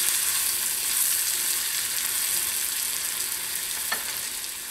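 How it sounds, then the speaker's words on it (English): Chopped portobello mushroom bits and half an onion simmer over low heat in a pan, giving a steady, close, soft sizzle with a faint hissing crackle throughout and a single light clink near the end. "I'm going to turn that down on a really low heat and let those simmer just a little bit."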